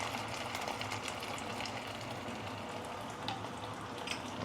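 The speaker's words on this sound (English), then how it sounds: "we're going to give it some filtered water" Filtered water is poured onto sautéed pickled vegetables in a hot pan while preparing Teochew steamed grouper. A steady, even hiss and sizzle carries on throughout at moderate level, with no voices.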